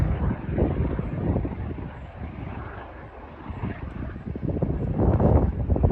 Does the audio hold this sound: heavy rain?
no